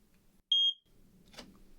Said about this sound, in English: Smoke detector, gonna test that button.